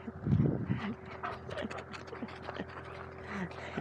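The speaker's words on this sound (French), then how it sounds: "Oh, chien." On a walk through the vineyards at Scharrachbergheim, a dog pants and scuffles close by as it jumps about, with a loud burst of breathy panting at the start and lighter scratchy movements after.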